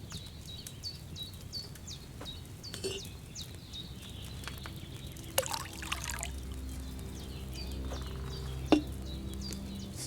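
Wine trickles and splashes into a cauldron during an alchemy task in Kingdom Come Deliverance II, a soft continuous pour set against faint birdsong and quiet ambient sounds.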